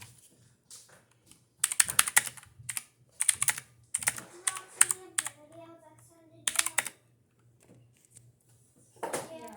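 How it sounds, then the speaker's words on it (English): Someone types a sentence on a OneUp mechanical keyboard, keystrokes coming in quick bursts separated by pauses, close and crisp, with a faint voice murmuring in the gaps and a low steady hum underneath. "let me actually type a sentence for you guys"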